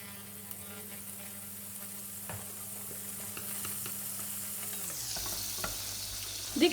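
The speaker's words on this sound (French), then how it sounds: "On va allumer le feu et laisser fondre le beurre." Butter melts in a frying pan on the heat before apples go in for compote, producing a soft, steady sizzle that carries on alone throughout, with a low background hum that shifts near the end.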